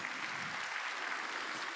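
A church congregation at a Sunday worship service claps together in a brief, fairly soft burst of applause that fills the room.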